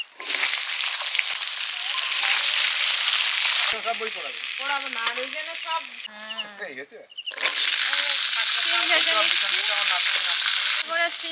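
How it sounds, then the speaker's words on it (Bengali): Eggplant fries in hot oil with a loud, steady sizzle that briefly drops away partway through, while people talk over it. "পাঁচ ভাজার তেলে বেগুন ভেজে নিচ্ছি"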